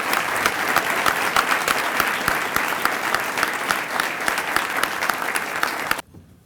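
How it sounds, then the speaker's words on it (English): At a college athletics awards breakfast, an audience claps in a full, lively round of applause with sharp individual claps over the crowd, then it cuts off abruptly. "Let's give one more big round of applause as they post their pictures."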